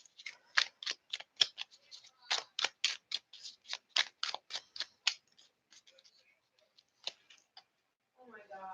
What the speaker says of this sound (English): These cards I'm shuffling right now are going to be for Cancer.